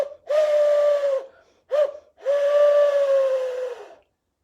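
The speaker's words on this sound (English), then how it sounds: "let's hear from our whistle again." A whistle sounds three times during a sing-along of owl songs: a long sustained tone, a short hooting blip, then another long tone that slowly sinks in pitch, clear and fairly close.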